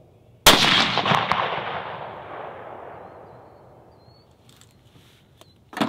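A single loud rifle shot cracks out while a gun is sighted in at a range, its boom rolling away over several seconds, followed near the end by a faint sharp knock.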